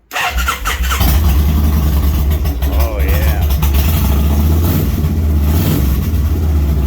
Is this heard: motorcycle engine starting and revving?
yes